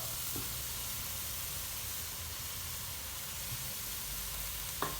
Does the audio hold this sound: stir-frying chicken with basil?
yes